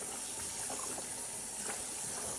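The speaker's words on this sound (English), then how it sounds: "Let me get some water up in here." Water pouring into a pot of stewing pork in a home kitchen, a steady, soft gushing hiss that runs unbroken for a couple of seconds with no talking.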